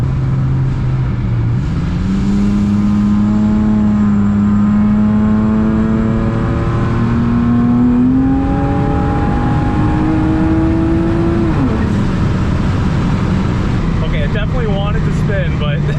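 A boosted Acura TL-S accelerates hard. Its engine note climbs through the gears, with one shift early on and a long, loud pull before the revs drop off near the end, under occasional talk from inside the car.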